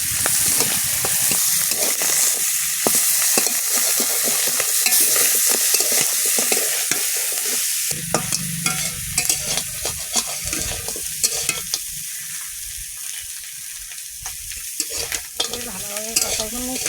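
Onions and garlic stir-fried with mustard seeds and a five-spice tempering for a crab curry, a steady loud sizzle with repeated scraping strokes of a spatula in the pan throughout, nearby and without talk.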